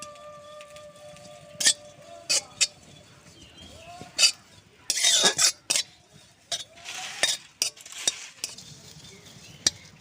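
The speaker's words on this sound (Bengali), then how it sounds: "এইভাবে শুকনো কড়াই নাড়ব।" Neem flowers dry-roasted in a dry wok with no oil, a spatula scraping and clattering against the metal in irregular bursts, close and crisp, with quieter gaps between strokes and a faint crackle.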